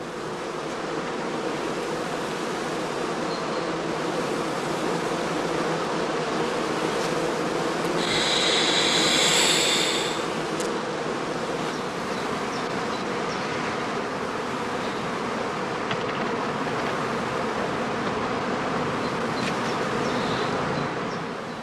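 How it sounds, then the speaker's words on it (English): Honeybees in straw skeps on heathland in northern Lower Saxony, readying to swarm, make a dense, steady, loud hum that swells briefly partway through. "the stocks in these skeps are prepared for swarming"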